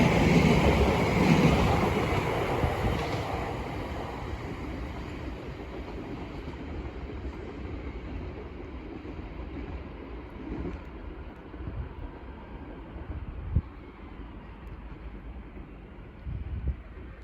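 A Chelmsford to London Liverpool Street train passes through Bethnal Green station, with a steady rail rumble and wind noise that slowly fade. A few clicks of wheels on the rails are heard near the end.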